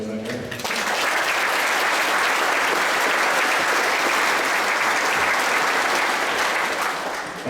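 An audience applauds at a school band concert, the Viroqua Band-O-Rama 2023, with loud, sustained clapping from a full crowd that fills the whole stretch without a break.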